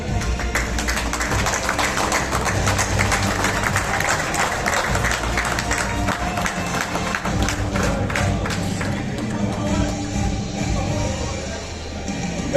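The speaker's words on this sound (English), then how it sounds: "I think they deserve a round of applause from the entire room" A room full of people applauding award winners on stage at a car and bike racing awards event, continuous dense clapping over a low hum of crowd and music, steady and fairly loud to the end.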